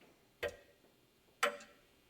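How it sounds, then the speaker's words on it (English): Two crisp ticks from a clock, spaced about one second apart, sound faint and close against a quiet background hum. "It's a clock, that's right. And a clock keeps a steady rhythm."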